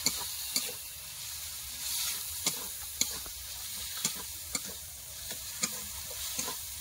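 Spices including turmeric and chilli powder sizzling with tomato, ginger and garlic in a frying pan while being stirred, a steady hiss punctuated by regular sharp scrapes and taps of the spoon against the pan, close and alone.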